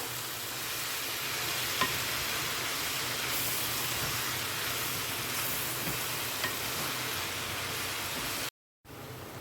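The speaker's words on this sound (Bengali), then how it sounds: "ভালো করে শাকের সাথে সবজিটাকে আমি মিশিয়ে নেবো" Punarnava greens mixed with vegetables are stirred in a pan, giving a steady hissing sizzle with soft scraping, alone and unbroken until a brief dropout near the end.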